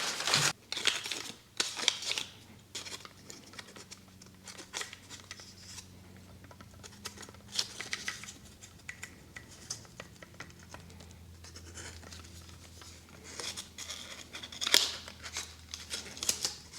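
Paper crinkles and scrapes in close, irregular bursts as it is wrapped around a SIG P320 pistol, with soft rustles and taps between louder crackles and no voices.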